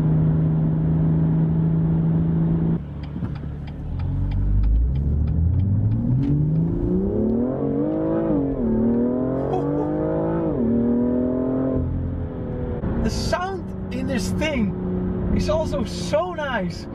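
A BMW M2 turbocharged engine revs and accelerates through several rising gear pulls, amplified through the car's speakers, loud and close inside the cabin, with a shift pause and faint chatter near the end.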